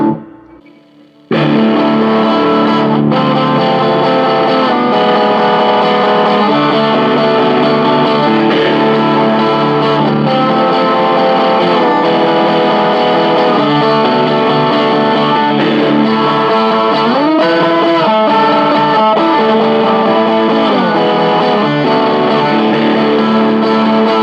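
Electric guitar through a King of Tone clone overdrive with only the gain side engaged, heard alone: distorted sustained chords and notes ring out continuously, with some bent and sliding notes near the end.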